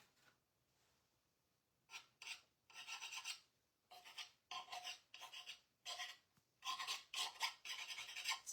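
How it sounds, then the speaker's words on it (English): A painted wooden cutting board with a festive gingerbread design is sanded by hand in short, separate rasping strokes that come in bursts with brief pauses, close and fairly quiet, with no talking. "we can sand this back a little bit"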